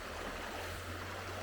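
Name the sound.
river flowing past houses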